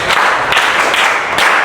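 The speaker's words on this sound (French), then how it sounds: "On applaudit." An audience applauds during a youth holiday workshop in Douala, a broad, steady wash of clapping hands lasting throughout with no voices.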